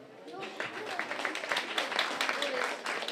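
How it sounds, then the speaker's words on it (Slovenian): Applause from a crowd at a village corn-husking gathering, a steady patter of many hands clapping at moderate distance, with voices murmuring underneath. "Ja, en aplavz"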